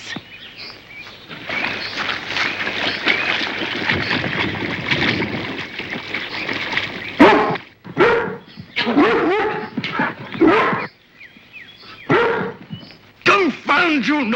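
A dog barks and whimpers in an outdoor woodland setting, in repeated short bursts from about seven seconds onward, with earlier voices talking over a steady background.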